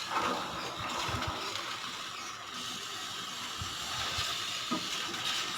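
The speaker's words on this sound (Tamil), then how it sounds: "மசாலா பொருட்கள் கொஞ்சம் நேரம் வதங்கினதுக்கப்புறம் பட்டாணி சேர்த்திக்கலாங்க" Steady loud hissing sizzle of green peas added to sautéed masala spices in a hot pan for a peas sundal, with faint clinks and stirring knocks underneath.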